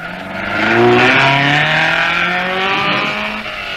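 An Alfa Romeo rally car engine roars past at close range in the 1958 Coupe des Alpes, its pitch rising and falling with gear changes and a sustained whine, no voices.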